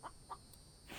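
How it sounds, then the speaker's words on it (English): A chicken in the zombie game The Infected gives a few short, faint clucks in quick succession against a quiet, hissy background. "I hear a chicken."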